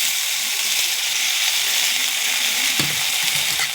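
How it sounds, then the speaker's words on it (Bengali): Soaked sago going into a pan of already-fried cauliflower for a vegetarian sago khichuri, with a steady loud sizzle and hiss of frying throughout and a brief scrape or stir near the end. "এরপর আমি ভিজিয়ে রাখা সাবু দিয়ে দিচ্ছি"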